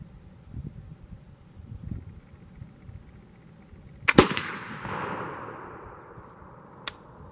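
A flintlock longrifle shot outdoors: a single sharp crack after quiet rustling, followed by a long fading echo and a faint later click.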